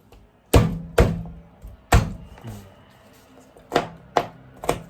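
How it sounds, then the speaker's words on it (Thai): Garlic, left partly in its skins, chopped with a knife on a cutting board for a Thai basil chicken stir-fry, giving sharp, close thunks in irregular bursts of single strokes with short pauses between them. "สับนิดนึงนะครับ"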